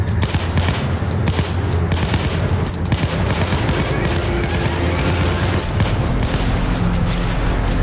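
Dense gunfire erupts in an art museum heist video game, a continuous loud barrage of rapid shots mixed with heavy booms, with no talking.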